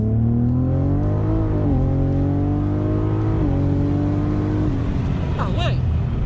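Tuned Cadillac ATS-V with roughly 600 hp and exhaust flaps open, heard from close by as it accelerates with engine pitch rising and stepping through gear changes. A loud, constant drone runs throughout, and brief talk comes near the end.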